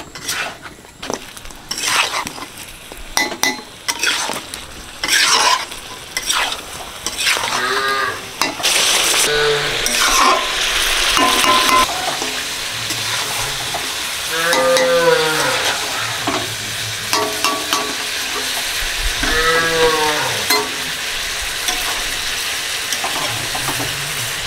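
Meat being stir-fried into kosha in a pan, with a little water added for a Bengali kosha mangsho, gives a sizzle under repeated scraping and stirring of a spatula against the pan, plus bursts of louder frying and occasional clinks.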